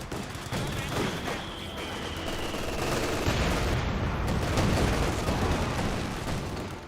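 Rifle squad firing in Company of Heroes 2, a continuous dense crackle of overlapping gunfire that runs steadily under a busy battlefield din for the whole stretch, with no clear voices.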